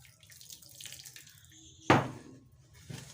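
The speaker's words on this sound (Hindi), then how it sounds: "तो अब इसके अंदर हम शामिल करेंगे थोड़ा सा पानी हस्बे ज़रूरत" Water poured from a tap or jug into a bowl of spice masala mix for fried fish, a soft trickle followed by a sudden louder splash midway, then quieter dribbles, with no talking.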